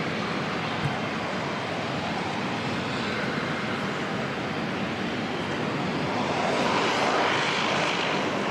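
A Jetstar airliner, flight 228 from Christchurch, at Auckland Airport, its engines a broad steady roar heard from a distance, swelling slightly toward the end, with no voices.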